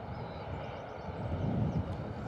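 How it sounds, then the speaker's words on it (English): An EasyJet A320neo airliner taxis at Bristol Airport, giving a steady, broad, low engine rumble that swells slightly midway, heard from a distance with no talking. "we've got another EasyJet 320 Neo taxiing down"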